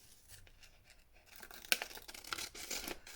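Paper being cut or torn while trimming out a hand-drawn envelope shape for a journal project, a few quiet rustles followed by a sharp close snip and a burst of crinkling, tearing paper sounds.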